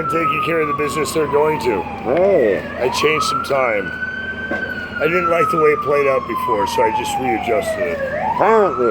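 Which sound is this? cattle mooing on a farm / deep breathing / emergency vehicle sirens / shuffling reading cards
emergency vehicle sirens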